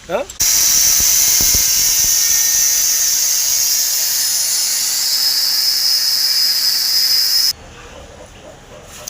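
A metal piece for a tractor clutch shaft is cut with a loud, close, sustained high-pitched whine that runs steadily for about seven seconds, then cuts off, with a few clicks before it starts.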